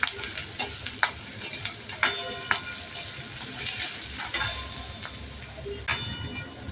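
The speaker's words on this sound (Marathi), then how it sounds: "कांदा आहे ना आपल्याला व्यवस्थित तेलात छान फ्राय करून घ्यायचा आहे, गुलाबी होईपर्यंत." Chopped onions and cumin frying in oil in a pan, a soft sizzle under repeated scraping and clinking strokes of a spoon stirring, the metallic taps spaced irregularly.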